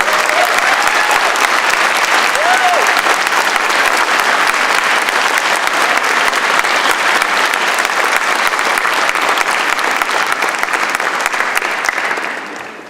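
Graduates at a spring convocation ceremony applaud, a dense, loud, sustained roar of clapping from a large crowd that holds steady for over twelve seconds before tapering off at the end.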